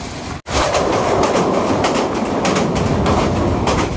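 A passenger train on the Dhaka to Gaibandha route in Bangladesh rumbles and rattles loudly and continuously, with one brief dropout near the start and no voices.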